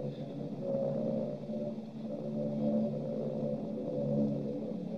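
A droning, wavering roar of Junkers 88 dive bombers flying low overhead in an old wartime radio drama, a steady mid-pitched engine hum that swells and throbs slightly throughout at moderate loudness, with no voices.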